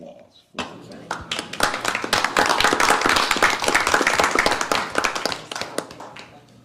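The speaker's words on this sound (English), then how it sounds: "I think we owe the staff of JPS applause for that." A board meeting room breaks into applause for hospital staff: a dense burst of many hands clapping starts suddenly, swells to a steady roar and tapers slightly, close and loud.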